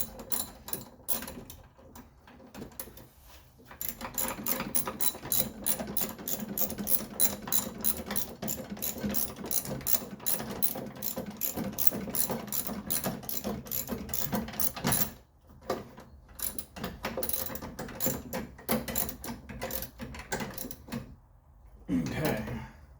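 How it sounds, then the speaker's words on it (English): A ratchet on a long extension turns a bolt during a brake master cylinder and fuel pump install, giving close, rapid runs of clicking with a few brief pauses. "That way I can get the old ratchet all the way out here."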